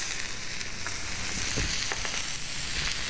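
Codfish with garlic searing in oil on a restaurant flat top, a loud continuous close sizzle and crackle with a few sharper pops and no voices.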